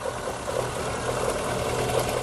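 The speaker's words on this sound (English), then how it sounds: "This GMC Terrain came in with quite the noise from the engine bay." Engine running in the bay of a GMC Terrain that was very low on oil, giving a steady, close mechanical drone with a faint knocking texture throughout, no voices.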